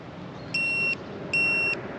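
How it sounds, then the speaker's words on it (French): Two short, clean electronic beeps from a GPS baitboat remote as it marks a fishing spot, evenly spaced about a second apart, clear and close over a faint background hiss. "Voilà, 2 bips"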